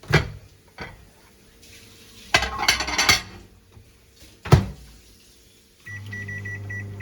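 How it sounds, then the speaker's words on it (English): A fork scrapes and fluffs cooked rice and quinoa in a pot, giving a few separate clinking, scraping bursts, then a short electronic beep and a steady hum close the clip. "remove it from the heat and use a fork to separate out the grains"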